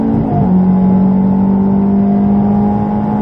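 Ferrari engine accelerating on the Silverstone circuit, a loud close-up drone that shifts in pitch at a gear change early on, then holds a steady, strong tone.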